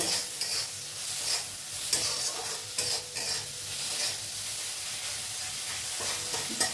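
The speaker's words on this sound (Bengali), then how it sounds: "তারপর এটা আমি ভালো করে তোমার কষিয়ে নেব" Dal being sautéed in a pan after a little sugar goes in, a loud close frying sizzle with repeated stirring scrapes and clinks of the spoon throughout, no talk.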